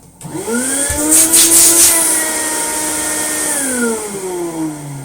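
A Goblin AquaVac 620 wet/dry vacuum pulls air hard through its hose, a loud steady motor whine that spins up quickly, holds, then begins to ease off near the end.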